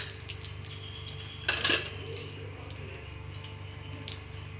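Mustard seeds tossed into about three spoons of hot oil in a pan give a short, bright sizzling burst midway through, then settle back under a steady low kitchen hum.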